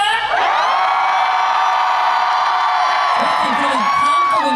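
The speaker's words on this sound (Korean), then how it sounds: "한번 여러분 DMZ 페스타 소리 질러 한번 소리 질러볼까요?" A concert crowd at an outdoor K-ARTS DMZ festival in Goseong cheers and shouts loudly and steadily for about four seconds, with a long sustained yelled or sung note ringing above the roar.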